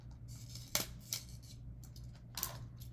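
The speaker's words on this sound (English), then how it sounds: "you can take your scissors and make sure you're lined up" Scissors snip through ribbon while a homecoming mum and spirit chain are assembled, giving about three short, crisp cuts close to the microphone over a low background hum.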